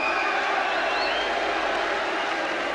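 A boxing arena crowd cheers and roars for Marvis Frazier in a steady, dense wall of voices and whistles that holds at a constant level throughout, with no single voice standing out.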